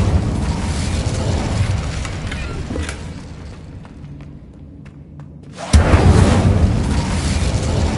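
Incendio fire spell cast in Hogwarts Legacy: after a hushed stretch, a sudden loud whooshing burst of flame erupts and continues as a dense, booming roar.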